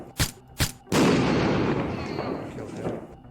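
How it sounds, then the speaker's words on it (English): Gunfire in a video game prototype: two sharp, close shots a fraction of a second apart, then a louder booming blast that rolls off and fades over the next two seconds. "I can actually shoot that barrel"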